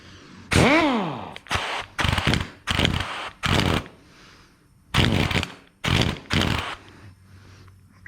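Ingersoll Rand pneumatic air tool running on low air pressure, firing in a handful of loud, short rattling bursts with gaps between them, sputtering and weakening toward the end.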